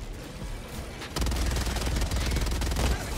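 A minigun in the video game Helldivers 2 opens up after a second of quieter battle noise, a loud continuous stream of rapid rattling shots that keeps going to the end.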